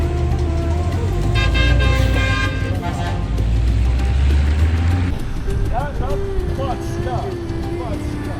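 Heavy road traffic in Sichuan with cars and trucks rumbling along and several horn toots, some short repeated honks near the end, while someone talks over the noise.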